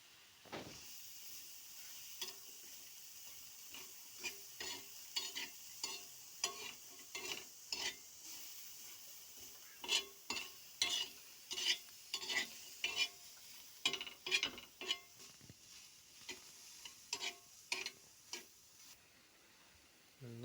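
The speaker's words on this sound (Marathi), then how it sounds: "आता आपण कांदा टाकलाय करपायला मस्त करपून घेऊ आपण तिच्यात" Chopped onion fries in a pan while fish is being prepared, with clattering stirring strokes in an irregular rhythm over a soft, steady sizzle, close by and with no talking.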